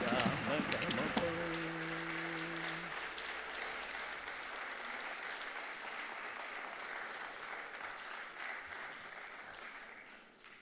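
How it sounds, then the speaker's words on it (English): An audience applauds after a Bharatanatyam arangetram, dense steady clapping filling a hall and slowly fading over about ten seconds, while a sustained musical tone and a voice sound briefly at the start. "please give Gino another round of applause"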